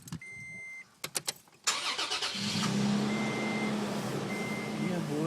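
A few clicks and a brief whir, then a new Toyota Tacoma pickup truck engine catches and settles into a steady, rumbling idle close by.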